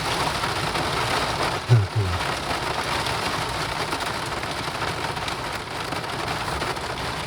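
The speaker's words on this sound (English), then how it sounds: "Oh, there's some hard rain." Hard rain falls at Stokes Castle in Austin, Nevada, a dense, loud, steady hiss of drops drumming on a nearby surface with one brief low thump partway through, and no speech over it.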